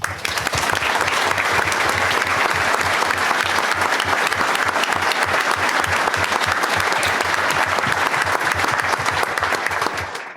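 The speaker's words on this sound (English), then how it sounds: "Please recognize them and have a round of applause for all of them." Sustained audience applause at an Order of the Engineer ceremony, a dense, steady clapping from a large crowd that holds for about ten seconds before tapering off at the end.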